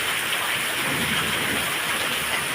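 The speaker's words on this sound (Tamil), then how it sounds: "பயங்கர மழை பெஞ்சிட்ருக்கு இருக்கு" Heavy monsoon rain pours in Arakkonam, a loud, dense and steady roar of water falling on surfaces, continuous and close, with no voices.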